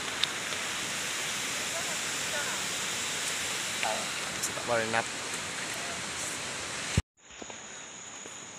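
Steady rain falls outdoors during a bike outing, a dense even hiss throughout, with a brief spoken phrase over it before the sound cuts off abruptly near the end.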